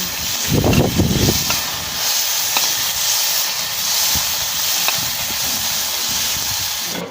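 Chopped tomato is added to a hot pan with browned garlic and sizzles with a loud, steady hiss, a few sharper bursts of spatter near the start, with no talking.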